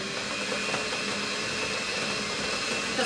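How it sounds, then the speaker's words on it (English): A cheap Sunbird stand mixer runs steadily while mixing batter, giving a continuous motor whir with a faint high whine, fairly loud and unbroken throughout. "my mixer is not like a fancy actual KitchenAid, it's like the cheaper brand Sunbird"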